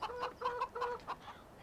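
A rooster in the video game Farming Simulator 17 gives a quick run of clipped, clucking calls, about five short bursts in close succession, clear and alone.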